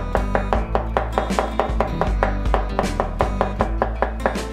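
Knife slicing four large mushrooms into slices on a cutting board, a steady run of sharp, close chops about every quarter second, loud and alone, with a low hum underneath.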